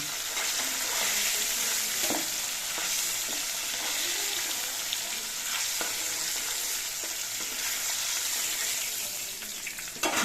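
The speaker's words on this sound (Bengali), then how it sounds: "মাছগুলো উল্টে পাল্টে নিয়ে সব দিকে আমি হালকা করে ভেজে নিয়েছি" Pieces of hilsa fish fry in hot oil with a loud, steady sizzle lasting several seconds, broken by occasional sharp pops and crackles, with no voices.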